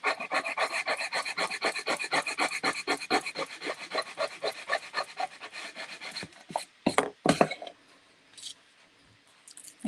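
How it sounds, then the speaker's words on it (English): A knife scraping out the gap between wooden slats on a patriotic craft piece, giving a fast, close, rhythmic run of rasping strokes that slows into a few scattered scrapes and knocks, then near silence. "I'm taking the knife here to just kind of clean out this slat a little bit, this gap in between"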